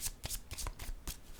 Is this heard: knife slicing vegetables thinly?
no